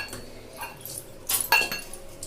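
Metal utensils clink and scrape against a pan and bowl as tummi kura curry is served out, a few light scattered knocks with one sharper clatter, no talk.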